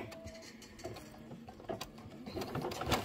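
A computerized embroidery machine stitches a batting tack-down line, giving quiet rapid mechanical ticking and whirring with irregular clicks, close and faint.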